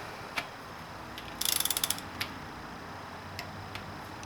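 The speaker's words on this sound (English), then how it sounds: "Let me just loosen this." Ratchet loosening an adjusting screw during a transmission reassembly, a quick burst of rapid clicks, near and fairly quiet, between scattered single mechanical ticks and clunks.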